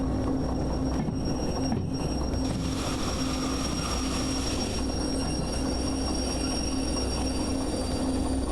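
Train in the railway game Derail Valley VR, a steady rumbling rail noise with a constant hum and some wheel squeal, continuous and fairly loud throughout with no talking.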